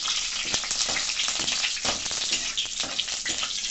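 Whole spices such as cinnamon, cloves, cardamom, shahi jeera and bay leaves frying in hot oil for gongura chicken, giving a loud, dense, continuous sizzle with crackling pops close by.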